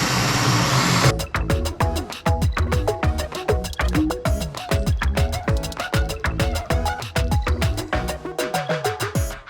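Carbide bit in a high-speed rotary tool grinding the ports of a Ford Focus ST/RS cylinder head, loud and close, with dense stuttering bursts of whining cuts and brief pauses as the bit bites the metal.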